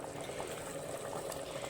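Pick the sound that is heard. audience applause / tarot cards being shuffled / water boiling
water boiling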